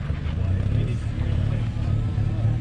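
A Jeep Wrangler 4xe climbing an off-road rock trail, a steady low engine and drivetrain rumble held close and even throughout, with people talking over it.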